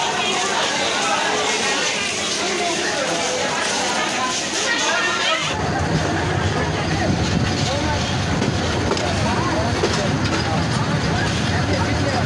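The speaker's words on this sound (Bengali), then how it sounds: "জামালপুর রেলওয়ে জংশন থেকে ছেড়ে গেল তিস্তা এক্সপ্রেস" The Teesta Express, on its Dewanganj to Dhaka run, pulls out of Jamalpur railway junction amid station bustle; partway through, a heavy low rumble and rhythmic wheel clatter take over, loud and close, with voices mixed in.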